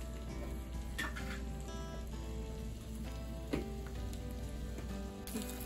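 Steady, close sizzling and crackling of food frying in a pan on the stove, with occasional light ticks and soft clinks.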